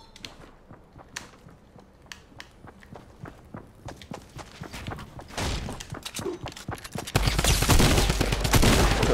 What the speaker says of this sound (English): Double shotgun drum gun spam.